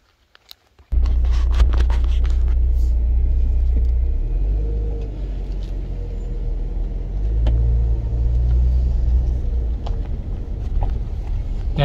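A car rolls slowly along a forest campground road, its engine a steady low rumble with some wind buffeting and occasional bumps, loud and close, starting abruptly after a brief quiet moment.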